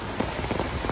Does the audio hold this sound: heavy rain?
yes